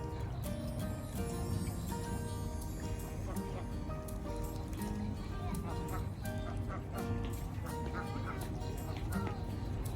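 A busy flock of ducks and geese at feeding time in a city park in Bangkok, quacking and honking over one another, close and continuous, with some voices faintly in the mix.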